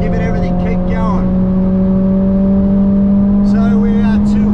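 A 2021 Mercedes AMG GT R Pro at full throttle down a track's main straight, a loud sustained engine drone climbing steadily in pitch from inside the car, with an instructor's voice talking over it at the start and end.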